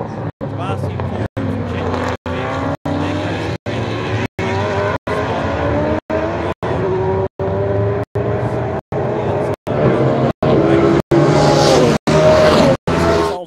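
Race cars at an NSW motor racing championship round, a Camaro among them, roar around the circuit in a loud continuous engine drone with shifting pitch, under a commentator's steady talk.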